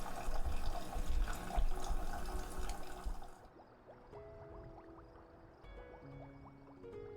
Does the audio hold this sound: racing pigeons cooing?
no